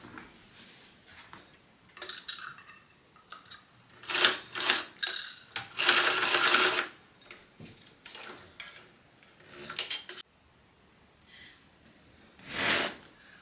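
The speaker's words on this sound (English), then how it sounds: "now I'm going to go and sew around this entire thing at 1/8 of an inch seam allowance" A sewing machine stitches around a fabric train case at a narrow 1/8-inch seam allowance, running in short bursts of rapid whirring and clatter separated by quiet pauses, close by.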